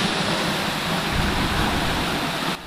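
The Velo de Novia waterfall in Temalac, Guerrero, a loud, steady, close rushing roar of falling water that holds constant before dropping off slightly at the very end.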